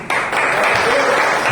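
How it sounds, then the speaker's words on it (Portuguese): Church congregation applauding during an evangelical service, a dense, steady wash of clapping that starts abruptly and holds loud and near throughout. "Aplauda o Senhor aí."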